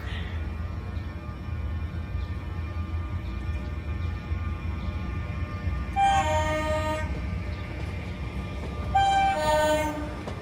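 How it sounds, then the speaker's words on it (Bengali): A train speeds past a station with a steady, loud rumble of wheels, then two horn blasts sound toward the end, the second louder and held longer. "স্টেশন পেরিয়ে ট্রেনটা ছুটে চলেছে"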